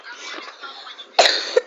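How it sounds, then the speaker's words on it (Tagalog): A person coughs close by, a hoarse, drawn-out cough followed by a sharper burst near the end, with no talking. "umuubo po ako."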